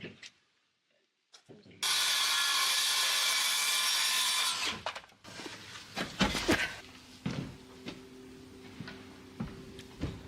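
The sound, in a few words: circular saw cutting OSB boards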